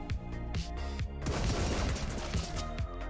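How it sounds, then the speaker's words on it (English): Gunfire in the video game Marauders: a few separate shots at first, then a sustained burst of rapid fire and a couple of trailing shots, fairly close and loud with no talking. "I hear footsteps, gunshots, and grenades just around the corner,"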